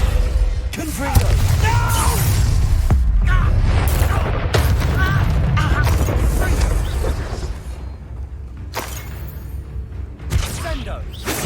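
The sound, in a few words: Confringo blasting curse explosion in Hogwarts Legacy video game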